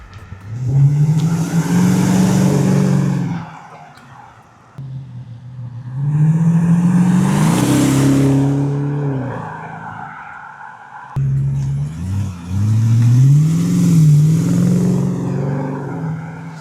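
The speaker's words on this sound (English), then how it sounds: "we're going to put it on the ground, see what it sounds like, get some revving videos" BMW 750i V8 with the rear exhaust box deleted revving repeatedly, three long loud swells that climb and fall back, heard up close with no talk.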